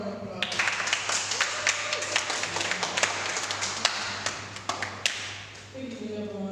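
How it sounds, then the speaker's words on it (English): An audience at a poetry and storytelling open mic event gives a round of applause. Scattered, uneven hand claps sound close by over a low steady hum, and the clapping thins out near the end. "Give her a round of applause."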